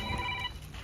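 A telephone ringing in a comedy sketch, heard as a brief electronic tone with steady high pitches, faint and cut off within a second.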